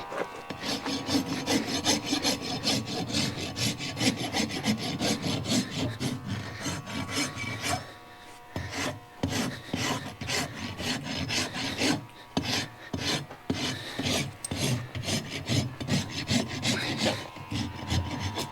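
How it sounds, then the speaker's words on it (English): A farrier's rasp files a horse's hoof during shoeing with steady, loud, close rasping strokes in a continuous rhythm and a few brief pauses. "So now I'm just gonna take my rasp"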